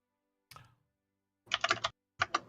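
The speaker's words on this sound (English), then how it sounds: "If you can hear me typing" Keys on a computer keyboard are tapped in short quiet bursts: a single click, then a quick cluster of keystrokes and two more taps, close but faint against silence.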